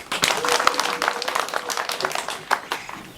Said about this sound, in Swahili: niombe tumpigie makofi Mheshimiwa DC